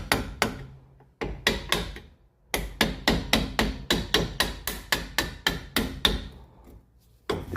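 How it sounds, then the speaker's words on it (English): Sharp metallic hammer blows ring out in quick bursts while driving out a rear brake pin on a Porsche 986, a steady run of strikes with brief pauses between groups, close and loud. "completely push it by just hammering it."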